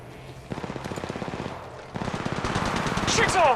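Rapid automatic gunfire from the mobile battle royale game Apex Legends Mobile, a steady stream of close, evenly spaced shots that grows louder toward the end with ricochet-like whines at the close.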